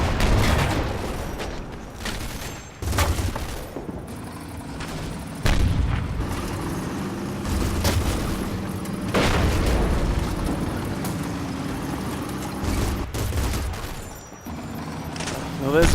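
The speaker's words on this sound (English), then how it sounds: "Well, there's the bazooka." Bazooka and gunfire in the World War II strategy game Combat Mission Fortress Italy, fighting along the Niscemi Highway: repeated heavy booms and explosive bursts, with rumbling battle noise in between.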